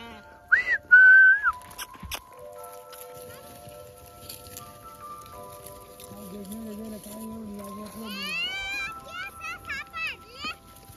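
A flock of sheep is herded through open countryside by Dhangar shepherds, with sharp whistles and high herding calls over people talking nearby and faint animal sounds in the background.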